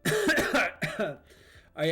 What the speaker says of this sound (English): I'm still dealing with the cough